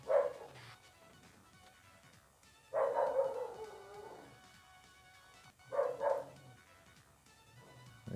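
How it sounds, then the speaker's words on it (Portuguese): Dogs in the video game Streets of Rage bark in three loud, clipped bursts spaced a few seconds apart, with quieter game sounds in between. "Eita, os cachorros."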